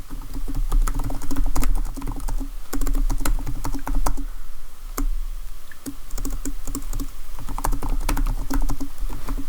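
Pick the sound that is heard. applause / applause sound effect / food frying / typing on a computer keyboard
typing on a computer keyboard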